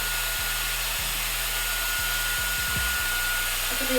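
A MERA Bi-ionic hair dryer running on its cool setting blows a steady, loud airy whoosh with a low motor hum, close by and alone.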